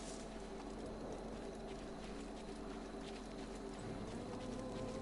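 Faint hoofbeats of horses walking in a steady clip-clop in the video game Assassin's Creed Odyssey, under a soft, constant outdoor ambience with a low hum.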